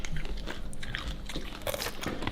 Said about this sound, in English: Ooh, I can hear the crunch.